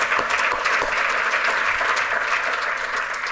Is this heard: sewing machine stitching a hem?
no